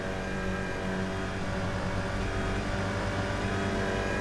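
Race car engine in the rFactor 2 sim racing game at Guapore, held under partial throttle: a loud, continuous buzzing drone that stays steady without pauses.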